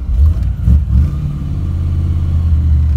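A Pontiac Firebird's 283 V8 with no choke hooked up cold-starts after sitting a few days, cranking briefly, catching with a couple of loud revs, then settling into a close, steady rumbling idle.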